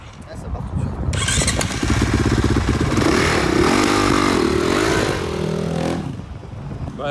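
Motorcycle engine started with the electric starter, a brief cranking whir that catches into a loud, steady idle close by, with people talking over it.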